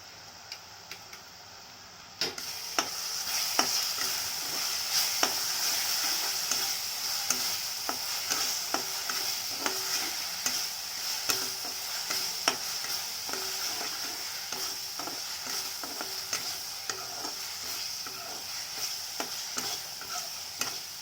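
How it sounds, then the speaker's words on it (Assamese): Spices with turmeric and salt fry in a pan with a constant hiss, as a spoon taps and scrapes in a quick, regular rhythm close by, with no voices. "মছলাখিনি ভজা হোৱাৰ পিছত আমি ইয়াতে আলু দি দিম"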